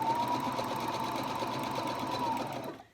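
A sewing machine runs a continuous seam on a cloth face mask, a steady close motor whine with a rapid needle rhythm that holds for nearly three seconds and then stops.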